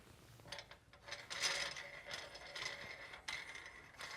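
Metal clicks and light ratcheting as a 10-pound weight is threaded back onto the bar of a Seven Jib Compact XL camera jib, a short run of close, uneven mechanical taps with no talk.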